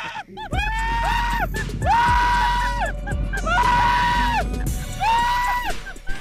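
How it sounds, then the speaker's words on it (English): Several people scream on an amusement park ride, repeated loud shrieks rising and falling in overlapping bursts, close and intense throughout. "The screams are hilarious."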